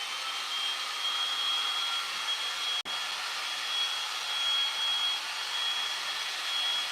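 A hair dryer blows steadily on freshly brushed Dixie Belle clay paint, making a continuous loud whooshing hiss that cuts out for a split second near the middle and then resumes.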